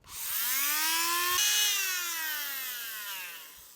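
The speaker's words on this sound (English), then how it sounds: "Just made that cut with the Dremel." A Dremel rotary tool cuts through an aircraft's vertical tail speed fairing with a loud, close, high-pitched whine. The pitch dips slightly partway through, then the tone holds steady and fades gently.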